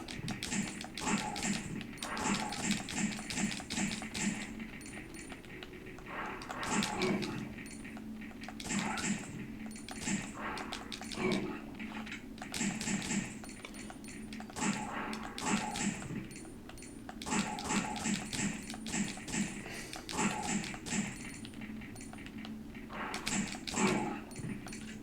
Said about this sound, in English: I hate fighting dogs on this.